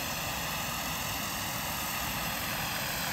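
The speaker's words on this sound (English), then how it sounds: "it's a lot easier to follow a helicopter than a plane." A Vario 1/4 scale Lama RC model helicopter whines steadily in forward flight, a continuous even drone with no one speaking.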